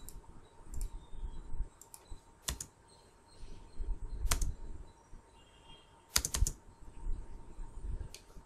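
Quick bursts of typing on a computer keyboard, clusters of sharp clicks separated by short pauses, fairly close and clear with no talk over them.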